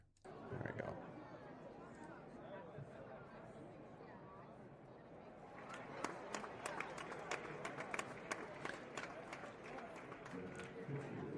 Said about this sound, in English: Let's get the crowd noise back.